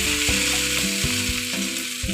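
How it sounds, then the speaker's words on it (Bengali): Boiled cauliflower stems and chopped tomato stir-fried in a pan for a Bengali chorchori, sizzling steadily up close while a utensil scrapes and turns them in repeated strokes. "দিয়ে দেবো ওই সেদ্ধ করে রাখা ফুলকপির ডাঁটা দিয়ে আমি একটু নাড়িয়ে চাড়িয়ে নেব"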